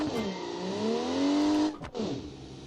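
A 1980s JDM convertible's engine in the BeamNG racing game revs loudly and steadily, its pitch climbing and holding before a sharp drop as it shifts or lifts, then resuming at a lower level.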